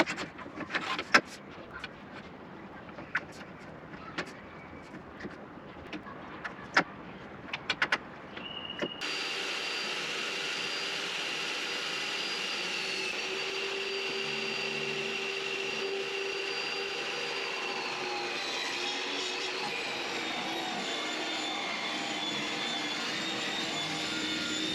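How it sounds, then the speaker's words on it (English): A router trims the MDF backing edges flush with the side of a bookcase: after a few scattered knocks and clicks, the router starts up and holds a loud, steady high whine for about fifteen seconds, with no talking. "I'll use a router just to trim and take the edges right up to"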